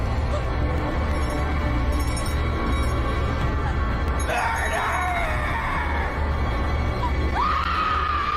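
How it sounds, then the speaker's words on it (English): A girl's sharp scream rises over a tense horror scene, a yell sliding up near the middle and another cry near the end over a steady low rumble. "The girl lets out a sharp scream"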